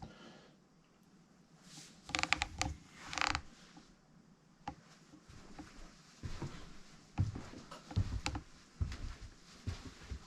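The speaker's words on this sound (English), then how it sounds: "This is a movable chair, so you can move it to a different location." A movable reclining chair inside a 2012 Itasca Sunova motorhome creaks and clicks in several irregular bursts as it is shifted, with close mechanical squeaks and knocks and no talking.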